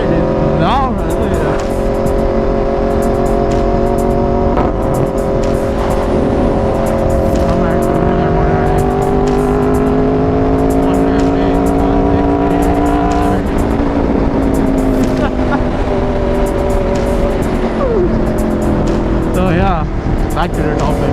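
Aprilia RSV4 motorcycle ridden through corners, a loud, close engine howl that climbs and drops in pitch with throttle and gear changes, sustained for the whole stretch under wind noise.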